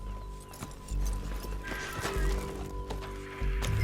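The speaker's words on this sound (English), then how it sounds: "Get on your horse, let's get after them." Galloping horse hooves in Red Dead Redemption 2 thud loudly and rhythmically up close, with a snort or whinny mixed in over a steady game background.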